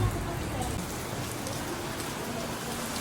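Steady rain falls in Los Baños, Laguna, a dense continuous hiss of drops on surfaces, even and close, with no break for the whole stretch.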